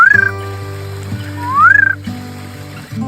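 Short whistling calls of a Castle Rock night frog, one brief whistle at the start and a rising swoop about a second and a half later, over a constant low hum with no voices.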